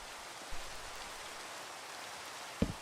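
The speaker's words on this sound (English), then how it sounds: "I'm using a new thing called particle effects for rain. You know what? It looks a lot better. It's actually raining." Rain in Minecraft pours as a steady, faint hiss of falling drops, with a couple of brief soft knocks, one near the start and one near the end.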